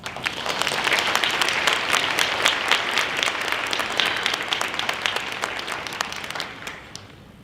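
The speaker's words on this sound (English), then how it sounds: "Please join me in giving all of our sponsors a round of applause" A round of applause for sponsors at a Hmong 50-year celebration in Wausau: a hall audience claps briskly and steadily, dense crisp claps that thin and fade near the end.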